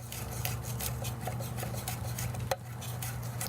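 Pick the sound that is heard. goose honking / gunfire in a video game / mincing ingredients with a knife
mincing ingredients with a knife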